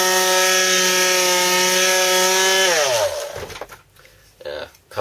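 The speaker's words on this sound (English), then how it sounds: "sanded this a bit, make it nice and smooth" A wooden stake being sanded smooth with a power tool: a loud, steady motor whine that winds down after about three seconds, followed by a few short scraping rubs against the wood.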